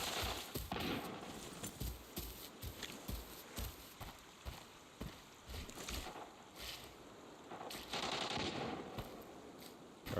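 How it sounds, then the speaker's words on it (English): Gunfire in the shooter game Arena Breakout Mobile, bursts of irregular shots and rattling fire at mixed distances over busy game ambience, with no speech. "away from the gunfire"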